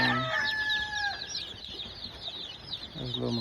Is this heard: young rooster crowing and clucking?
yes